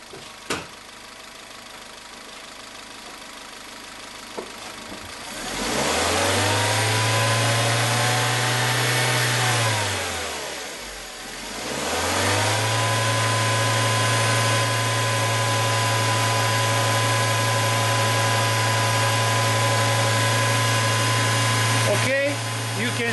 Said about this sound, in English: now I'm raising the speed of the engine